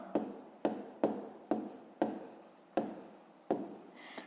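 A pen writes on paper in seven quick, evenly spaced strokes, each a sharp scratchy onset fading out, close and clear in a quiet room.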